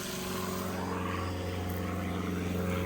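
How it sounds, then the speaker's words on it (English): A propeller airplane drones overhead above an October garden, a steady low hum at moderate level that holds throughout, with no one speaking. "hey, look, another airplane."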